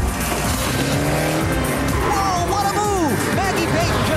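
A NASCAR-style Herbie race car with a 180-horsepower engine roars loudly through the whole stretch, joined by sliding, squealing tire pitches in the back half, with other race engines around it.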